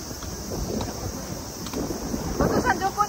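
Wind gusting across the microphone aboard a riverboat cruise in Tokyo, a continuous rough rumble with surging gusts, mixed with faint background voices and water noise.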